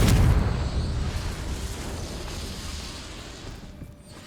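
A fiery blast spell goes off in a Harry Potter–style fantasy video game, a single loud booming explosion with a sharp onset that rumbles and slowly fades over several seconds, with no talk.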